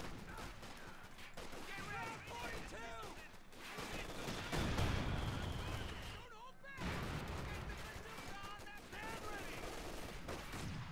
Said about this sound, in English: Oh, is this the LMG? Yes, the LMG gang. Cutting down the other heavy machine gun.